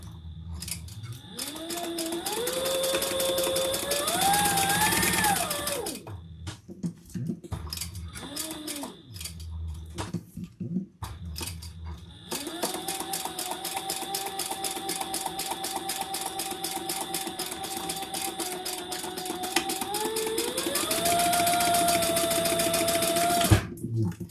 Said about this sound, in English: I'll just do a chain stitch